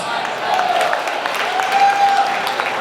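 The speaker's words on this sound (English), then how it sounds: "Let's give him a big round of applause." Audience clapping at a dirt-track racing awards banquet in a stockyards hall, a steady wash of hands held at an even level, with a faint tonal hum and murmur threaded underneath.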